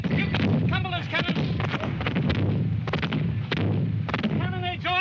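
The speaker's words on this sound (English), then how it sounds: "Cannonades all around me." Cannon blasts crowd together at a Culloden battle reenactment, firing in rapid, irregular succession with a loud, close, echoing boom. Raised voices can be heard between the shots.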